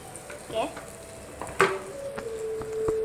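Asafoetida (kayam) stirred in a pan while making tomato chutney, heard as a few soft scraping strokes with a light sizzle, close and fairly quiet.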